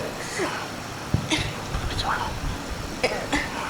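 A few short, sharp coughs break out amid nearby talking.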